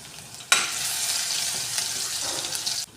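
Crushed garlic cloves and mustard seeds hit hot oil for a ridge gourd curry, bursting into a loud, steady sizzle that runs for a few seconds before cutting off.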